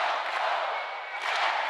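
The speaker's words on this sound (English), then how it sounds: "this crowd is lively." A lively arena crowd cheers loudly and steadily at a Hawaii versus UCSD women's volleyball match, a dense roar that swells again near the end.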